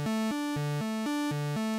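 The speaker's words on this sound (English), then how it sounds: "we're starting off with an ARP 2600 pulse" ARP 2600-style pulse patch layered in Omnisphere plays a short arpeggio of bright, buzzy synth notes stepping between a few pitches in a steady rhythm, heard alone without any talking.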